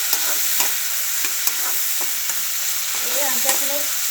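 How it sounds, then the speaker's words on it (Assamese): Tomatoes stirred and fried in oil for a fish curry: steady hot sizzle punctuated by repeated scraping strokes and light taps of a spatula against the pan, close and without speech. "বিলাহীখিনি মই ভাজি আছোঁ।"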